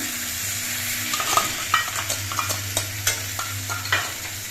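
Spice paste with ginger and green chilli fries in a pan for a vegetarian okra dish, a continuous close sizzle with repeated rhythmic stirring scrapes from a spoon against the pan.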